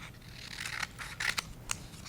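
Scissors snip a small piece of paper tape at close range, giving a few brief crisp cuts over a low, quiet background.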